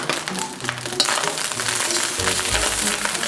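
Egg, prawns and cooked rice are stir-fried together in a wok for Japanese-style prawn fried rice, giving a steady close sizzle with scraping and tossing noises and a louder low rumble near the end.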